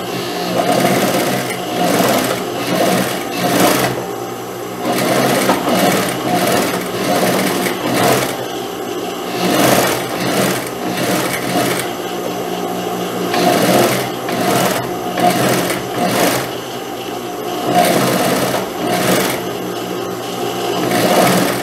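A sewing machine stitches elastic thread onto a blouse collar, running in loud, close bursts of rapid mechanical whirring separated by short pauses, with no talk.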